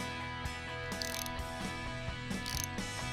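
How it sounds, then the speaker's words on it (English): A 1/2 inch wrench tightens the fastener on a battery cable coupler, giving a rapid series of close metallic ratcheting clicks in short bursts over a steady mechanical background. "Now tighten the fastener with a 1/2 inch wrench."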